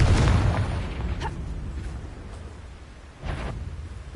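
Confringo blasting spell explosion in Hogwarts Legacy, a loud booming blast that rumbles and fades, followed by a second smaller burst near the end.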